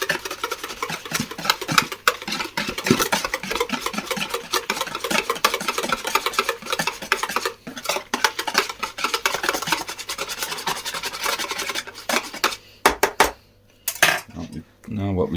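A whisk beating custard in a pan, with fast rhythmic metallic scraping and tapping against the pan, loud and close, easing off into a few separate knocks near the end.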